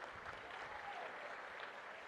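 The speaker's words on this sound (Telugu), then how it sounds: "గట్టిగా చప్పట్లు కొట్టి అభినందించండి ఆయన్ని." Audience applause at a Telugu political gathering, a dense steady wash of clapping from a large crowd that holds evenly for the whole stretch with no voices standing out.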